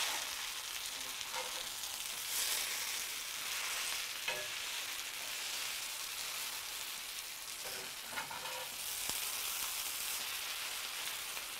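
Corned beef hash for red flannel hash sizzles steadily and loudly in a hot pan, with occasional scraping clanks as it is flipped and pressed against the bottom to build a crust.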